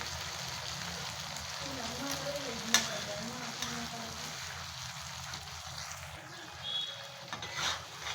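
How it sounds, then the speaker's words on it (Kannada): Prawns fry in a pan with a steady, soft sizzle, broken by occasional scraping stirs and a sharp clink near the start, heard fairly quietly. "ನೋಡಿ ಇವೆಲ್ಲ ಚೆನ್ನಾಗಿ ನೋಡಿ ಫ್ರೈ ಆಗಲಿ."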